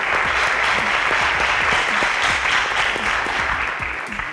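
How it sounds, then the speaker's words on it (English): Loud, sustained applause from a crowd at a school quiz competition, dense and even, tapering slightly at the end. "A round of applause for Louisville Girls Secondary."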